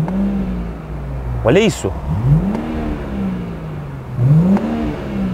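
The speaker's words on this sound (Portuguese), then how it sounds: "o carro liga. Escutaram o ronco?" A newly bought car in Berlin roars just after starting, with its engine pitch swelling and dipping in a few loud waves while someone talks over it up close.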